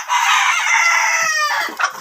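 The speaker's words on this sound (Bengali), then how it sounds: "মুরগি ডিমের জন্য ওই শব্দ করতেছে" A Fayoumi hen about 105 to 110 days old, on a poultry farm in Taraganj, Rangpur, gives one loud, close, drawn-out clucking call lasting about two seconds, ending in a few short clucks.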